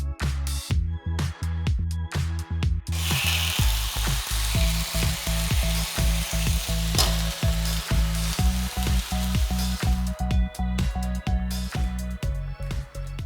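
Korean chicken galbi sizzles loudly and continuously in a frying pan, with frequent sharp clicks and scrapes of stirring throughout.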